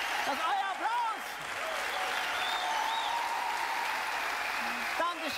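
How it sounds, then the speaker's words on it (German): Audience applause at a live comedy-magic stage show, steady clapping filling the room for several seconds, with a performer's voice speaking over it. "Das ist euer Applaus."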